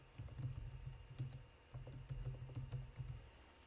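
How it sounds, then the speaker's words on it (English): Steady, quiet clatter of fingers typing on a computer keyboard, a run of rapid key taps with a brief pause midway, close up in a calm room. "So you can just type something if you want"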